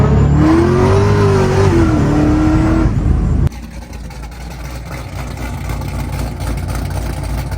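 A 700whp 2009 Pontiac G8 engine revs hard, a loud rising whine, then the tone drops into a rough, steady idle rumble.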